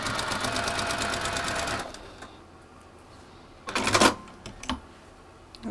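A sewing machine stitches a small fabric block in a quick, rapid run that stops abruptly, followed by a few faint clicks and handling knocks.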